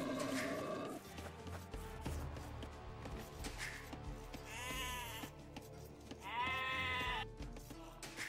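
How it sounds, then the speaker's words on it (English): Sheep in the real-time strategy game Age of Empires bleat twice in a tournament match, each call a short wavering cry over a steady background hum, with no one speaking. "he's controlling all the sheep right now."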